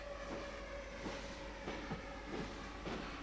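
Two model trains move on a branch-line layout, producing a quiet, steady rumble with regular clickety-clack beats from the track joints and a constant faint motor whine, with no voices.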